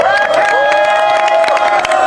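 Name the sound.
audience applause and cheering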